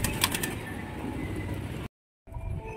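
Young pigeons flutter and flap their wings as they fly toward an outstretched hand for food, a close, busy burst of wingbeats and rustling that briefly cuts out before resuming.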